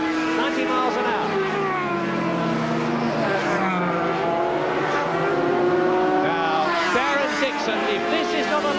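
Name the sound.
racing motorcycles at speed, 1988 TTF1 race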